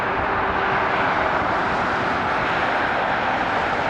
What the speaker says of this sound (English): Right now the plane is landing with a tailwind